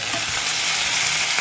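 Skipjack tuna fries in a pan with a steady, dense sizzle throughout, close and alone.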